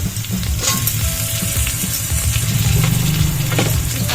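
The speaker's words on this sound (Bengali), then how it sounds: "চলো এগুলো একটু ভাজা ভাজা করে নিই।" Capsicum sizzling and frying in a pan as it is stirred, with a steady close hiss and scraping stir strokes throughout and no one talking.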